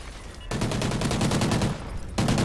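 Rapid automatic gunfire in a Call of Duty-style game: a sustained burst of fast, evenly spaced shots, a brief pause, then the firing resumes, loud and close.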